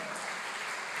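A church congregation applauding, a steady wash of many hands clapping at moderate distance throughout the short moment, with no other sounds standing out.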